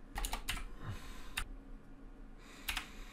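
A name is typed on a computer keyboard in a few short bursts of crisp key clicks with pauses between them, quiet and close, with no talking.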